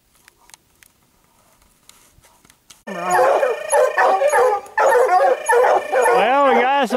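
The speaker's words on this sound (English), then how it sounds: "We got our number one cold-nosed dog on it right now." Hunting hounds bay and bark loudly in full cry while tracking a bobcat in Colorado, bursting in after a quiet start and carrying on as an overlapping stream of drawn-out howls and rapid barks.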